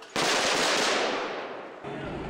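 Firecrackers thrown by anti-government protesters at police in Serbia burst suddenly into a loud, rapid crackling that rattles on, then fades slightly into a continuing noisy roar.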